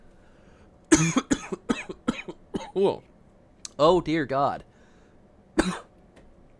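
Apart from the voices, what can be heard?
coughing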